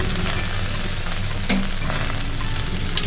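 Dry fruits and peanuts frying with ground coriander, cumin and chilli powder for broken wheat khichuri, a continuous close sizzle with a few stirring knocks against the pan.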